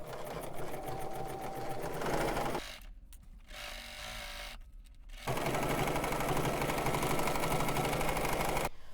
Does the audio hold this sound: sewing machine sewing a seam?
yes